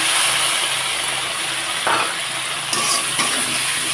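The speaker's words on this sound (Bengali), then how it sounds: "এখন মশলাটাকে ভালোভাবে কষিয়ে নেব" Spice paste of turmeric, chilli powder, ginger, garlic and cumin paste fries in a pan for a crab curry, giving a continuous loud sizzle and hiss with a few scraping stirs partway through.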